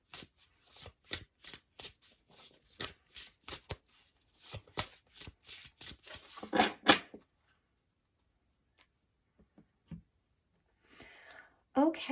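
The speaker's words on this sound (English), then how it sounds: "Let's just give this a quick shuffle." A deck of reading cards is shuffled by hand in quick, crisp bursts of riffling and tapping, close and clear, followed by quieter handling and a long pause; a voice speaks briefly near the end.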